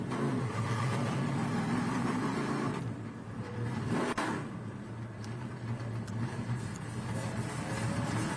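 Trans Am Series race cars at Virginia International Raceway roar through a loud, continuous engine wash that dips briefly and swells again, with no talk.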